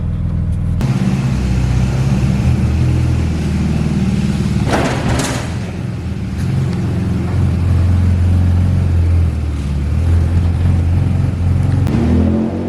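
A coil-pack drift car with no OBD port revs its engine at close range, a loud continuous mid-pitched drone that rises and holds, with a brief sharper burst partway through.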